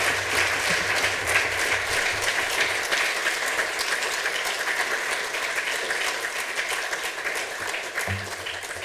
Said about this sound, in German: Vielleicht kurzen Applaus für euch.